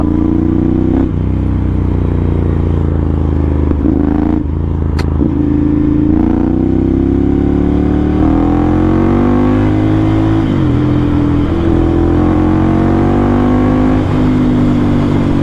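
Ducati Monster 796 motorcycle engine revs hard and close up, its rough twin-cylinder note rising and falling through repeated throttle blips with a few mechanical clanks.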